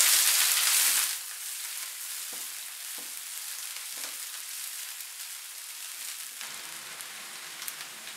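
Chopped medium onion hitting 3-4 spoons of hot oil in a pan, a loud burst of sizzling at first that settles into a steady, close frying hiss with a few small clinks of stirring.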